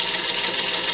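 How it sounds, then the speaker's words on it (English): A sewing machine runs continuously while it stitches flying geese quilt pieces, a close, steady whirring hum that stays constant for the whole short moment. "You're going to put your flying geese into the sewing machine"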